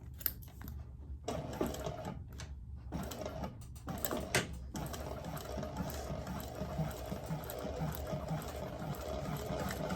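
Sewing machine stitching fabric nearby, with short stop-start bursts at first and then a steady continuous mechanical whir, fairly quiet overall, with no talking.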